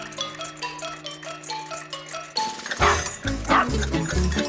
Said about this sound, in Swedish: Den skällde visst klockrent.